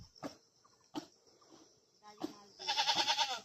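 A sick, dying goat lets out a few weak, strained bleats close by, separated by pauses, ending in a longer quavering cry.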